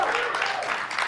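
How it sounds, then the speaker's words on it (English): Comedy club audience at a stand-up show applauds in a brief, dense burst of clapping that fills the room. "Give me a round of applause for me, man."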